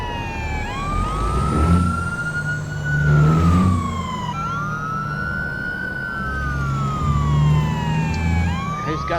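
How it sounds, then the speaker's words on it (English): An ambulance siren in American Truck Simulator wails, rising and falling in long sweeps, loud and steady with truck engine rumble beneath, no voices. "Who's got the siren now?"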